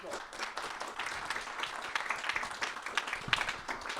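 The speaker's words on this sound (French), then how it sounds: "on peut quand même l'applaudir." Moderate audience applause at the Mondial automobile 2014 workshop, a steady patter of clapping with voices mixed in underneath.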